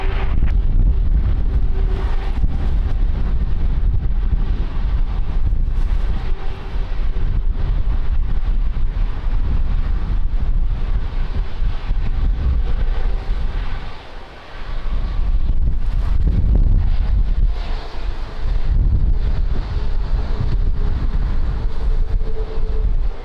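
Strong wind at Lisbon Airport, gusting around 22 knots, buffets the microphone in a continuous loud low roar that barely lets up, with no talk over it.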